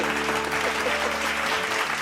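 Church congregation clapping together during a Sunday service, a dense, steady wash of applause lasting about two seconds with no speech over it.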